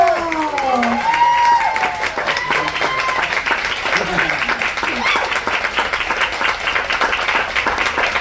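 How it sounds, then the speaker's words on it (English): A cruise ship audience keeps up loud, continuous clapping for performer Zach Bencal, with shouted cheers and whoops near the start and a busy crowd murmur running under the applause. "Keep that applause going for the incredible Zach Bencal."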